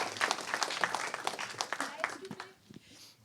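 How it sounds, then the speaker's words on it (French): A short burst of audience applause at a conference panel, moderately loud, thinning out and fading after a few seconds with some voices mixed in. "Petite main d'applaudissement"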